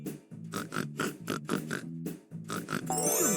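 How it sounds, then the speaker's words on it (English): A cartoon pig oinking in the Alphablocks FunRun children's video game, a rapid series of about a dozen close, loud rhythmic grunts, followed by a bright musical flourish at the end. "Pig."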